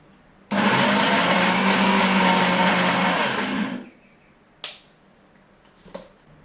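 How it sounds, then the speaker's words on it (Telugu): A kitchen mixer grinder blends tamarind chutney in one loud, steady whir of about three seconds, then cuts off abruptly, followed by two faint clicks. "స్టవ్ ఆఫ్ చేసుకొని చల్లారిన తర్వాత ఇప్పుడు దానికి మిక్సీ కొట్టుకున్నాం"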